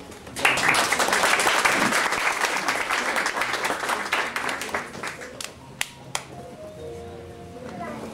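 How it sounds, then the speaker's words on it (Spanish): An audience at a martial arts event applauds loudly, the clapping thinning out after several seconds into scattered final claps while a voice talks underneath. "así que un aplauso también."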